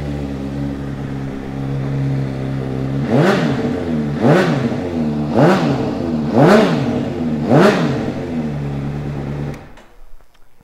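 A 2016 Honda CBR600RR sport motorcycle with an underseat exhaust idles steadily, then revs sharply five times in an even rhythm, each rev rising and falling, before cutting off into silence.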